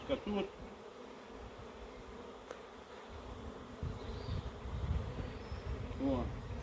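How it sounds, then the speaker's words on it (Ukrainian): Honeybees from a swarm that has arrived at an apiary, gathered in a swarm box, give a steady close buzzing hum with a few brief louder passes, heard alone without talk. "Ось деякі бджілки, які сидять на стінках грамконоса."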